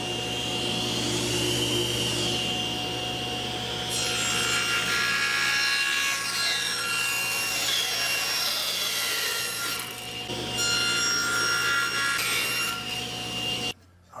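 A power saw blade cuts wood to make a shooting board, giving a loud, steady rasping whine that runs close and continuous for about fourteen seconds, dips briefly near the middle, then cuts off abruptly.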